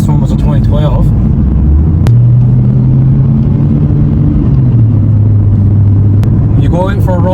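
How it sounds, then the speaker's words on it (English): A 2015 car rumbles along on a road test, a steady loud low engine drone from inside the cabin that shifts pitch as it accelerates, with a few sharp clicks and brief speech at the start and end. "Go out for a road test with a car"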